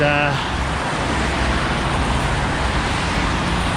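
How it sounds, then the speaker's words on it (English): Heavy trucks and cars roar past on a busy highway, a steady close wash of traffic noise that fills the whole stretch. "Probably can't hear me because of the loud trucks that are going by. This is a very busy highway."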